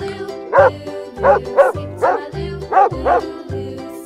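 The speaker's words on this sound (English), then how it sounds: "Dog." A dog barks about six times in a steady, evenly spaced series, each bark short, sharp and close.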